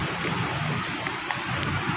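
Heavy tropical-storm rain pours steadily at White Sand on Dolomite Beach in Manila, a dense, continuous hiss with low rumbling wash underneath and no pauses throughout.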